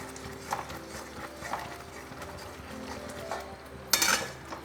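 A spoon works through egg korma gravy with nuts in a pan, giving faint, scattered scrapes and clinks with a sharper scrape near the end, and no talking.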